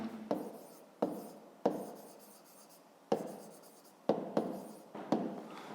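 A pen writes by hand in a school notebook, making a series of short scratchy strokes with brief pauses between them, close and fairly quiet.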